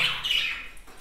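A pet parrot lets out a single short, harsh squawk nearby, a brief raspy burst that fades quickly.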